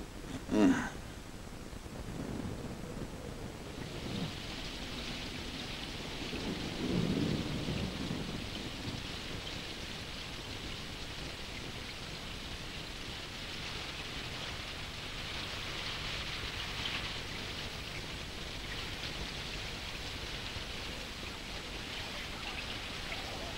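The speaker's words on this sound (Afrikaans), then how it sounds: "Jy gaan 'n donderstorm kom." Cartoon thunderstorm: a sharp thunderclap opens, a low rumble rolls a few seconds later, and steady hissing rain continues throughout, fairly quiet with no talking.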